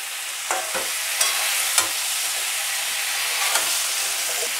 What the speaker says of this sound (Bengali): এইগুলো দিয়ে আমি একটু ভাজা ভাজা করব